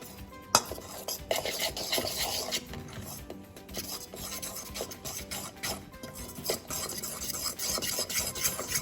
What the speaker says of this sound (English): now we are going to mix up all of the ingredients